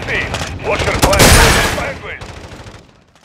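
Launcher blasts and bursts of gunfire in Call of Duty: Modern Warfare II, a loud cluster of booming shots with rapid fire trailing off, under shouting voices.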